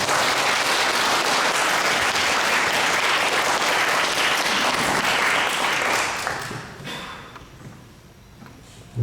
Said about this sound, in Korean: 우리 목사님 환영하는 마음으로 한번 박수 치시면서 모시겠습니다